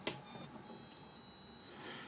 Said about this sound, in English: there's the beeps from your brushless system